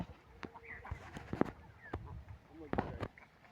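Ducks kept in confinement give scattered honks and quacks close by, with sharp clicks and knocks mixed in and short bursts of calling across the stretch.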